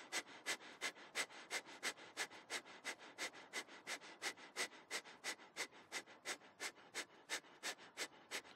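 Rapid, evenly paced breath of fire yoga breathing, with sharp rhythmic nasal exhales about three per second, close and fairly quiet, in a morning vinyasa practice.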